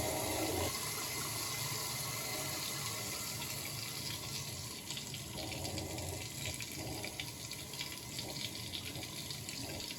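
Tap water runs steadily into a sink while a Merkur Progress safety razor is rinsed, a continuous close splashing stream lasting throughout with no talk.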